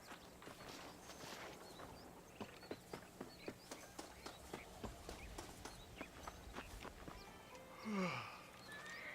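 Horse hooves clip-clopping at a steady walking rhythm in Red Dead Redemption, a clear series of evenly spaced beats, fairly faint under a low ambient background, ending with a brief louder whinny-like sound near the close.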